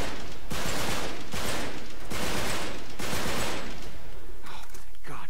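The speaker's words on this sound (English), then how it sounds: "Gun down these guys." Rapid gunfire from the video game Uncharted 3, loud bursts of shooting repeating in several waves with brief gaps, fading out at the end.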